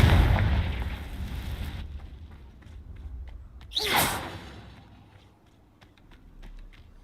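Confringo blasting spell in Hogwarts Legacy, a loud rushing burst in the middle of the clip that flares and fades, set against game ambience and the soft tapping of keys.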